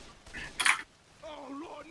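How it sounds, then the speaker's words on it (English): Gunfire in the video game Left 4 Dead 2: one sharp, loud shot burst stands out between quieter stretches, followed by voiced talk over game sounds. "Get away from the gunfire."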